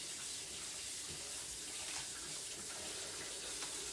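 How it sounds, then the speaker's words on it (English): Water runs from a kitchen sink tap into a pan, a constant close splashing hiss that stays at an even level throughout with no talking. "Let me run this over here to the sink. Put some water in it."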